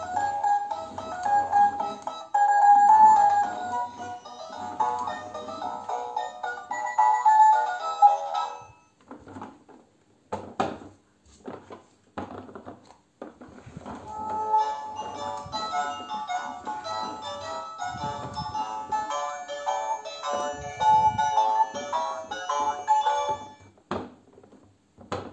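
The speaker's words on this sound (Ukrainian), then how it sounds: "Тут включається. І можна з музичкою." A Mega Bloks caterpillar ride-on toy plays a bright electronic tune, a melody that stops briefly midway, gives way to a few clicks and knocks, then resumes, close and clear without talk.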